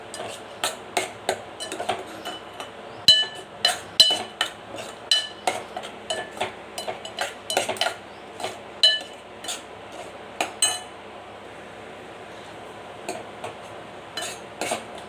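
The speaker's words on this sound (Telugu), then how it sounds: "ఇప్పుడు ఒకసారి కలుపుకుందాం." Metal spoon stirring pepper rasam in a pot, a rapid series of sharp clinks and scrapes against the vessel with brief pauses, close and fairly quiet, no talking.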